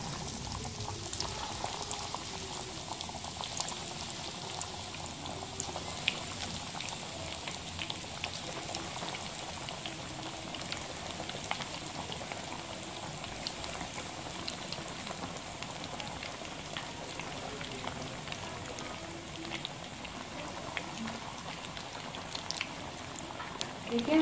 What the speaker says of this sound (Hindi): देखिए हमारे पोटैटो चीज़ नगेट्स फ्राई हो रहे हैं।